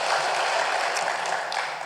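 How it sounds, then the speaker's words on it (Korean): Church congregation applauding during a Sunday worship service, a dense continuous wash of many hands clapping at steady loudness, with no talk. "우리 재정부 위해서 박수 한번 쳐줍시다"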